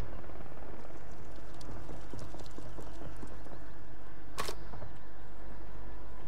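Enemy footsteps in a shooter video game, a faint, steady run of soft clopping steps under constant background noise, with one sharp bright click standing out partway through.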